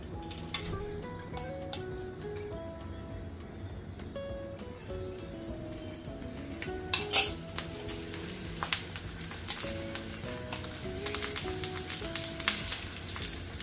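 Green chillies roast in a couple of spoons of oil in a pan. Soft music plays at first, then a crackling sizzle with sharp pops rises and continues over the music.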